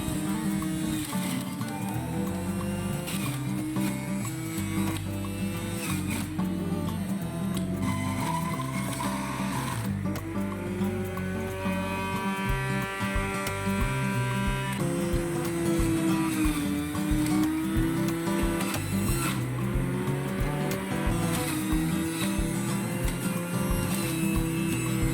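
Electric juicer motor running steadily while apples are fed in for apple, orange and carrot juice, a loud continuous whirring hum with grinding variations throughout, no speech.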